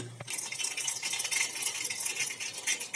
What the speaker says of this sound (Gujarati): તેના માટે તેલ આવી ગયું છે સરસ મજાનો વઘાર કરી લઈએ